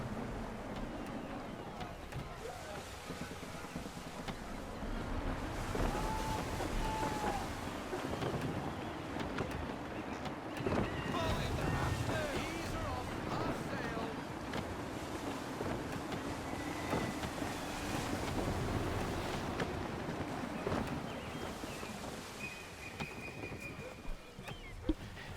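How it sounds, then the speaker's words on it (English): Steady wind rushes and buffets around a sailing ship on open water in Assassin's Creed 3, a low continuous roar with gusty swells and faint creaks over the whole stretch. "Gusty winds can be difficult to manage."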